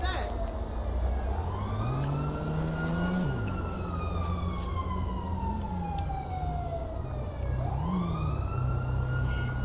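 A fire truck siren in GTA V wails in rising and falling sweeps, loud and close, over a rumbling engine, with a few sharp higher tones cutting in.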